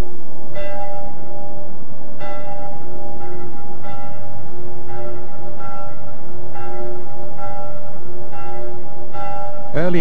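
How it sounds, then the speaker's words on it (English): Church bells of San Giovanni in Rome ring for morning Mass, several clear, resonant strokes sounding at a steady spaced rhythm over a dense background of overlapping tones. "The bells of San Giovanni are sounding for Mass."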